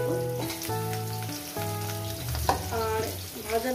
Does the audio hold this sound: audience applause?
no